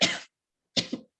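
Two separate coughs, the first a single harsh burst and the second a double cough, heard alone with silence between them at moderate loudness.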